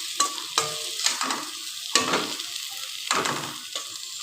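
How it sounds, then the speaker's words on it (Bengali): Ground green chili paste fries in a pan for a Bhola fish curry, giving a steady close sizzle broken by repeated scraping stir strokes, with no voices. "কাঁচা লঙ্কাটা দেখেছ ভালো করে কষিয়ে নিলাম"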